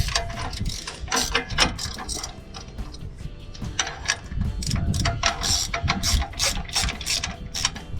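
A hand ratchet clicks in fast, uneven bursts as it works a 14 mm bolt off the drag link bracket of a Jeep Wrangler JK, close and clear with no talk over it.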